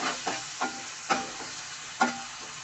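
Onion pieces dropped into hot oil with fenugreek seeds for a koramenu fish curry, giving a steady sizzle with several sharp bursts as the pieces hit the pan and are stirred.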